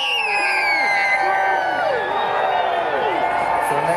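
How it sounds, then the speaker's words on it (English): Crowd at a waterfront boat parade on the Las Olas Intracoastal Promenade during the 50th Winterfest, screaming, whooping and cheering loudly for several seconds, with scattered shouts and some clapping mixed in. "let me hear you scream loud"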